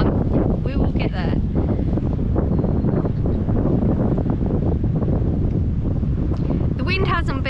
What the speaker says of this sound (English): the wind's coming up. I'm hoping you're not gonna hear it so bad